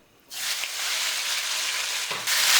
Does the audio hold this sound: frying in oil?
yes